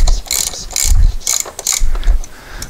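Rapid clicking bursts of a ratchet wrench, close and loud, loosening the oil filter cap on a 2002 BMW 325i, with brief pauses between strokes and no speech.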